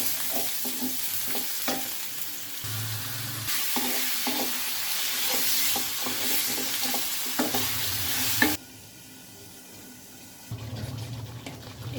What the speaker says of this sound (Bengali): তেল গরম হয়ে গিয়েছে। এবারে প্রথমে আমরা পেঁয়াজ কুচি দিয়ে দিব।